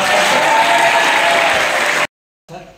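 Vocational high school students at a boarding school event clap loudly and continuously, then the sound cuts off abruptly and a brief murmur of voices follows.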